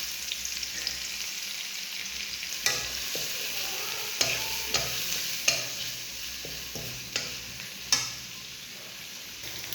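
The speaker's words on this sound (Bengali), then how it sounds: "এখন আমি রসুন কুচি এবং পেঁয়াজ কুচি দিয়ে দেব" Chopped garlic and onion sizzle steadily in hot oil in a pan after fish is fried, with periodic clinks and scrapes of a stirring spoon over the constant frying hiss and no talking.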